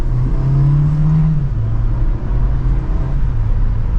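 Engine of a 2024 Volkswagen Jetta SE pulls from second gear, a loud climbing tone that drops at the upshift and climbs again, heard from inside the car with steady road noise.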